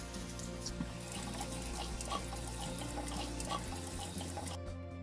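Cold tap water runs steadily into a kitchen sink while polished silver is rinsed under it, a constant splashing stream at close range that cuts off abruptly near the end.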